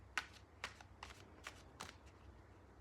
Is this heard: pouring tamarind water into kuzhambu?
no